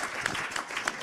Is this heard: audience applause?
yes